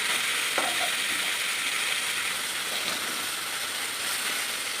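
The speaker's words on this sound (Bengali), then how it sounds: "এক পিঠ ভাজা হয়ে আসছে।" Pond fish fry in hot oil in a pan with a steady, dense sizzle that holds at an even level from start to finish, close by, with no talk over it.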